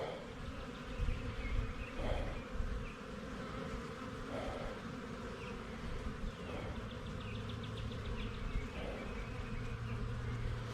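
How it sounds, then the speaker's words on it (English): A honey bee swarm buzzes all around, a dense, continuous droning hum with individual bees rising and falling as they pass close, fairly faint and with no voices. "So when you get a swarm, if you can find the queen"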